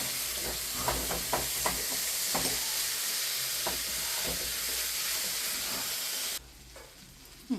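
Jackfruit seed thoran stirred in a hot pan in a Trivandrum-style kitchen, a steady loud sizzle with repeated scraping strokes of the spoon, alone without talk, the frying hiss dropping away near the end.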